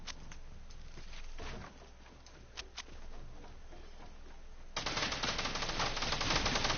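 Rapid gunfire in Fortnite, a string of sharp clicking shots at moderate distance that suddenly swells into a louder, denser burst of fire near the end.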